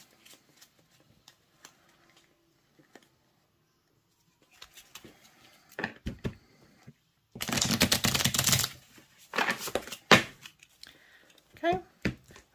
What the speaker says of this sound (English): We're going to shuffle them again.